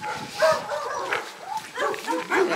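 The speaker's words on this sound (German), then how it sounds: "Oh, jetzt kommen noch Hunde." Several tethered dogs bark along the Camino de Santiago path between Sarria and Portomarin, a string of sharp, irregular barks at moderate distance, some overlapping, with no one talking.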